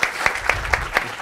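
Studio audience at a talk show claps in a sparse, rhythmic pattern of five evenly spaced sharp claps over a steady background wash.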